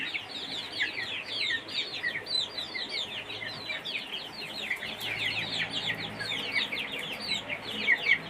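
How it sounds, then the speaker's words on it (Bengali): Many chickens, including desi hens and tiger chickens, clucking and chattering continuously nearby, overlapping calls forming a busy flock sound with no talking. "দুটো দেশি মুরগি চলে আসছে"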